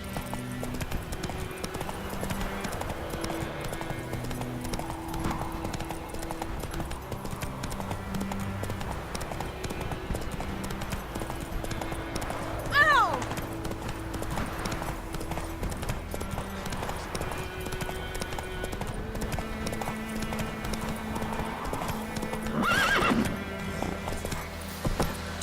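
Roach, a horse in the video game The Witcher 3, clip-clops along at a steady walking rhythm, hooves tapping continuously and close with a faint game ambience behind.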